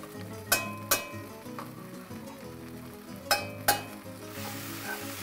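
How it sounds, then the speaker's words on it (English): Onions, garlic and tomato paste stir in a pan under a low, continuous sizzle, with several sharp clinks and scrapes of a utensil against the pan at uneven intervals. "Give that a good stir"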